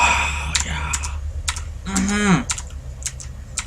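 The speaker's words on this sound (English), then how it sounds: "I will get a new mic someday so you can't hear my keyboard and mouse as well." Keyboard keys and a computer mouse click in quick, irregular bursts close to a microphone while a StarCraft match is being commentated, with a voice speaking briefly in the middle.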